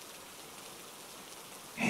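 Rain falls as a soft, even hiss at low volume, with a louder rush of noise right at the end.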